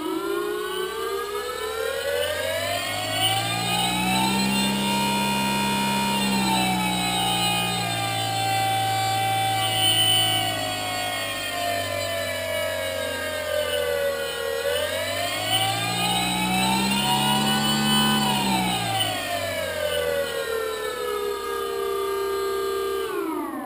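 A model Yak aircraft motor runs loud and steady, a sustained whining drone that climbs and falls in pitch twice as it is revved, with no talking.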